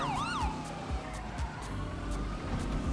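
Police car sirens wail in GTA V roleplay, a rapid yelping siren sweeping up and down at the start, then continuing as a wavering tone over traffic noise and engine rumble.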